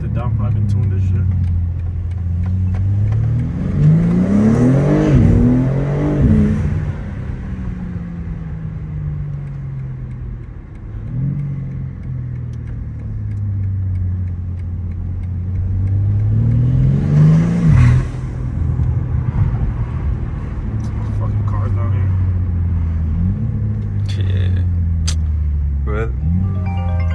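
A BMW G80 M3 revving hard with a loud intake roar, pulling through rising and falling engine sweeps in two big surges and smaller blips, with people talking over it.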